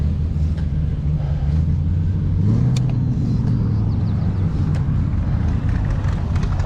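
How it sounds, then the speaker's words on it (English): A Shelby Cobra sports car passes by a bike trail in Gig Harbor. Its engine makes a loud, steady, low roar that swells slightly as it goes by. "Oh, it's a Shelby Cobra. It sounds like a fucking motorcycle."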